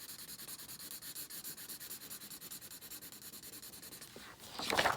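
Felt-tip alcohol marker with a bullet nib stroking across paper, a steady run of soft, even rubbing scrapes close up, ending in a brief louder, hissier squeak as the stroke finishes.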